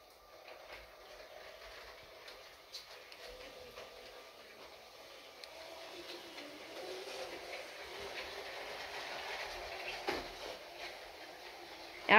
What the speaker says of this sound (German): So, jetzt schalte ich den Zug hier an.